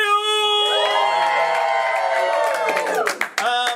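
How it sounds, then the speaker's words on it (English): A comedy club audience cheers and claps at the opening of a live stand-up show, a loud, dense swell of whoops and applause that holds steady, then breaks into scattered claps and shouts near the end. "the crowd goes wild!"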